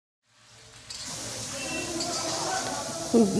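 Chicken meat frying with spices in a pan, a steady soft sizzle and hiss that builds gradually and stays close, with a brief louder burst near the end.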